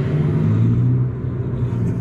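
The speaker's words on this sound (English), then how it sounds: "if you don't know cars, this sounds like a flipping combustion engine car." An Abarth 500e Turismo electric car plays a simulated combustion engine note while slowing, a low steady droning rumble heard from inside, moderately loud with no talk.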